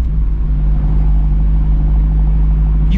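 Abarth 124 with a sport cat exhaust cruising after a shift into sixth gear, giving a loud, steady low drone and rumble held at an even pitch.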